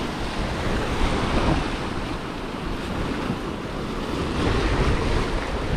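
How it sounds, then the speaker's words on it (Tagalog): Steady roaring wind buffets the microphone over crashing surf on the Bermuda coast, a loud continuous rush with no voices. "Expected dito na talagang malakas ang hangin."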